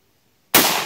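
A single loud, close gunshot from a scoped Chinese Type 56 SKS rifle firing 7.62x39 ammunition at a range, a sudden sharp crack after silence with a ringing decay.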